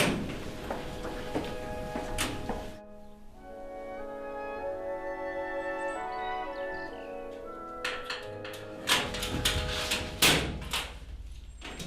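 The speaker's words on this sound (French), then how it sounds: "Ouvrez-moi la porte de sa chambre" A bedroom door in a care facility being opened, with clunks and rattles at the start and end of the clip around a stretch of quiet tonal music.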